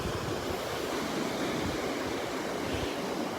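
Surf rolls onto the beach at Delnor-Wiggins, a steady, broad wash of waves with some wind rumble, continuous and fairly loud with no voices.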